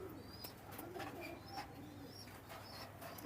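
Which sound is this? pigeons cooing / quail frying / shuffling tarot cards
pigeons cooing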